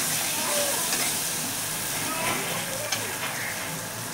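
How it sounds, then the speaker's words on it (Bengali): Chili paste and cumin paste fry in a pan with a dense, steady sizzle and hiss that carries on without a break, close and fairly loud. "এখন লঙ্কা বাটা, জিরা বাটা দিয়ে ভালো করে কষিয়ে নেব।"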